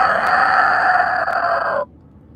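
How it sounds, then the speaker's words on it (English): A rooster crows in one loud, sustained, close call with a bright, strained tone that holds for nearly two seconds and then cuts off sharply, followed by quiet background hum. "I can hear the rooster crowing as well."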